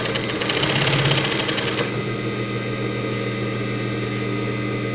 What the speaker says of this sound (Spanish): Ahí la máquina está cosiendo y tramando sin ningún salto